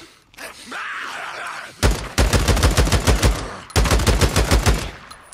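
Gunfire at zombies in the video game Days Gone, two long rapid automatic bursts of loud, close shots separated by a short pause, after a groaning creature sound at the start.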